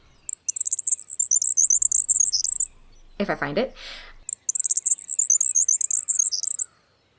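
A small brown bird sings a mechanical, robot-like song of rapid high chirping trills, clear and alone in two long phrases, broken midway by someone speaking briefly.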